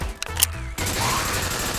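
Gunfire from a stronger weapon in a zombie simulator video game: a short burst of loud, close shots in the first part, then a sustained noisy rumble of game sound.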